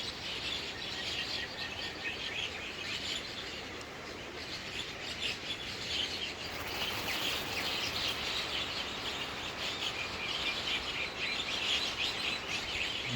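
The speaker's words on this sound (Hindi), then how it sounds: "कलरव, पंछियों की आवाज़ें" Many birds chirp and sing together in a tree, a dense continuous chorus of bright high calls that stays steady and fairly loud for the whole stretch, with no voices.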